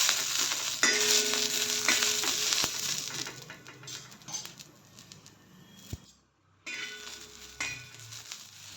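Green chillies frying in a pan until browned, the base for green chilli chicken. A close sizzle with stirring and scraping fades and briefly drops out near the end before returning.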